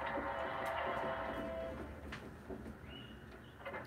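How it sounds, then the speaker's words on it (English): In Super Mario 64, birds chirp faintly in short, scattered calls over a steady game ambience, with one clearer whistle-like call near the end. "Or the birds, like, making noise. I love when birds make the morning noise."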